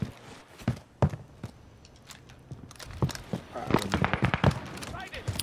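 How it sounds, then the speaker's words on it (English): Gunfire in the Warzone video game, heard as a handful of sharp, separate shots spread through the clip, growing denser near the end, mixed with footstep-like clicks and a player's voice talking. "One is shooting at me."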